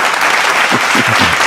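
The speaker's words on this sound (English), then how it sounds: "Here's some ghostly clapping for you, or ghostly clapping." Clapping applause used as a sound effect: a dense, steady wash of many hands clapping throughout, with a faint voice briefly audible underneath toward the end.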